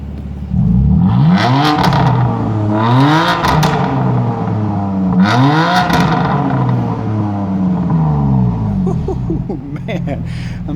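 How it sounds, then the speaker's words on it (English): A 2017 BMW M4 with the M Competition Package revs its engine in repeated rising and falling sweeps, three strong surges over a loud, close idle rumble, then settles back to idle. "Hey Trish, how about another rev time?"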